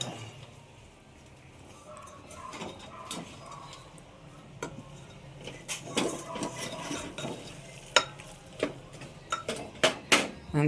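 Jaggery being stirred into cooked lentils in a pot for puran poli, a spoon knocking and scraping against the metal in irregular clinks that grow louder and quicker, over faint background noise.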